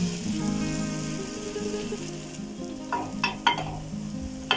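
A tiffin cooks in a pan with ghee and grated coconut, giving a continuous close sizzle and a few light clinks toward the end.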